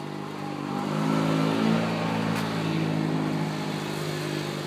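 A Kubota L4701 diesel two-wheel drive tractor idles and revs nearby, a steady low rumbling engine note that swells briefly around the middle before settling back.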